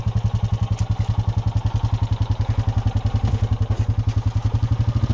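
A Honda Rancher ATV engine runs close by on throttle, making a steady, rapid, even thumping that holds throughout with no talk.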